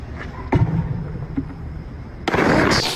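Fireworks go off nearby, with a sharp bang followed by a long, loud, crackling burst that fills the end of the sequence.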